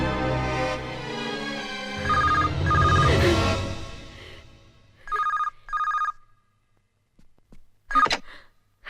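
Telephone ringing indoors, bursts of electronic ring tone that stop and start, with voices and other sounds in the pauses between rings.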